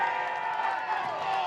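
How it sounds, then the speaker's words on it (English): Football crowd at an AFL Capricornia senior grand final roars with sustained cheering and clapping after a Glenmore score, a dense wash of voices that holds steady and loud throughout. "if you didn't hear about it from us, you heard from the crowd"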